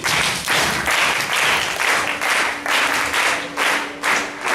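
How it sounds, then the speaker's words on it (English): An audience claps hands together in a steady, rhythmic beat, with loud bursts repeating about twice a second throughout, like clapping along to music at a speech contest. "Everybody clap your hands."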